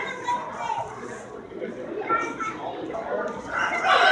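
Chickens clucking and crowing in a pen at the Graham County Fair in Safford, Arizona, with intermittent nearby fowl calls mixed with people talking and a busy crowd in the background.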